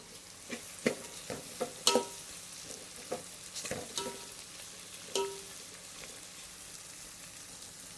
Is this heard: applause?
no